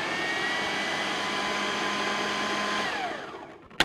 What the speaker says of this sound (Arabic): السكر، كاكاو، هخلطهم بس شوية كده الأول